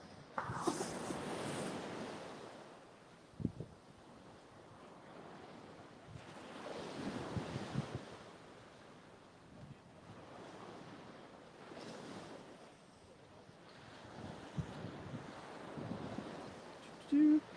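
Ocean waves wash onto a beach at Panama City, Florida, rising and falling in repeated surges with steady wind noise buffeting the microphone throughout.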